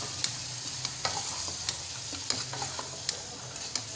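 Mixed vegetables with spinach cooking in a pan, a soft steady sizzle broken by regular light clinks and scrapes of a spoon stirring, close and fairly quiet, no speech.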